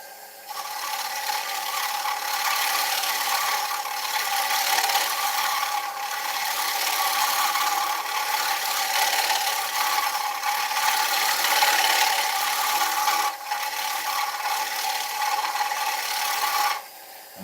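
Ash bowl spinning on a wood lathe at around 600 to 700 rpm, giving a steady, close scraping and rasping hiss of the tool cutting, continuous for most of the stretch with a brief dip near the end.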